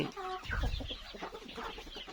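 Burmese gamecock chickens cluck close by in short, busy bursts at evening feeding time, a few birds calling over one another.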